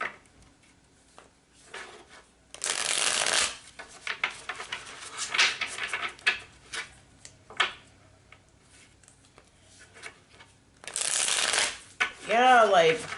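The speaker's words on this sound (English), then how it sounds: "Shuffle it one more time." Tarot cards are riffled and shuffled in two bursts, with scattered card handling and soft taps between them and a voice speaking briefly near the end.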